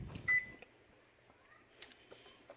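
A microwave oven finishing its cycle after cooking rice gives one short, clear electronic beep near the start, followed by faint clicks and handling sounds in a quiet kitchen.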